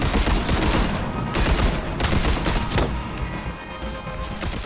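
Enemies fire on the player in Red Faction: Armageddon: heavy, dense volleys of automatic gunfire with sharp impact cracks, loud and close, with no talking.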